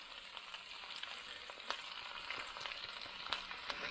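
Onions fry in a pan seasoned with salt, pepper and thyme for French onion soup, giving a steady close sizzle with scattered sharper pops and crackles throughout.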